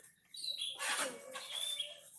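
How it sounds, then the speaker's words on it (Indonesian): An old wild white-rumped shama (murai hutan) gives short, faint chirps and a few thin whistled notes, close by and without talk. "ini murai hutan, asli hutan,"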